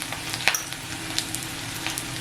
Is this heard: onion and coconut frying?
yes